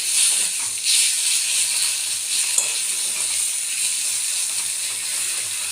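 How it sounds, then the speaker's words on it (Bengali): Fatty meat with spices fries in a little oil in a pan, giving a loud, continuous sizzling hiss with faint stirring clinks underneath. "এটা খুব ভালো করে ভাজতে হবে"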